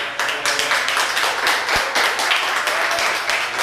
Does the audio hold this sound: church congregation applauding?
yes